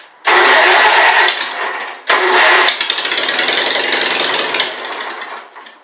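A Sears SS16 garden tractor engine cold-starting after a new fuel pump: loud cranking catches, stumbles briefly, then fires again and runs roughly and unevenly before fading, with no talking.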